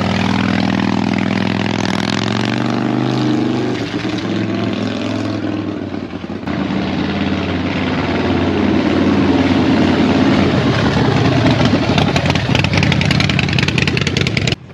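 A 2005 Harley-Davidson Softail Fat Boy V-twin runs close and loud, a thick rumbling idle that dips briefly and then rises into stronger throttle blips near the end, with no talking.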